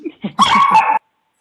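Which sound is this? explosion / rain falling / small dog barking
small dog barking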